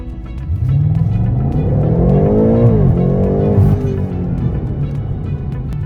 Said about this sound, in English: after the stop sign I'm going to punch it a little bit